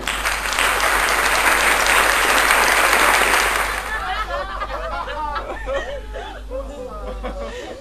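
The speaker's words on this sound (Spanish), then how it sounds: "Me animan mucho sus aplausos." A comedy audience applauds loudly for about four seconds, and the clapping then fades into scattered chuckles and murmuring chatter from the crowd.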